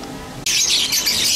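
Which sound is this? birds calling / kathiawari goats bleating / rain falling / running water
birds calling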